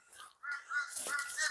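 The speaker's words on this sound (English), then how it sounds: "it's loud. The crows are loud." Crows caw at an abandoned golf course, a few harsh calls overlapping at moderate distance and fairly faint, with no talk.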